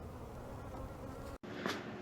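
Honeybees from a queenless hive hum in a dense, steady drone close to the listener, broken by a brief cut near the end before the buzzing resumes.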